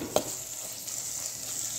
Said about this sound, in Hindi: थोड़ी सी मिर्च, धनिया पाउडर भी मिक्स कर देंगे